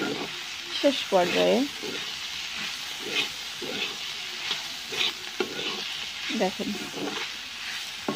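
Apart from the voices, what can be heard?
onion stalks frying on a clay stove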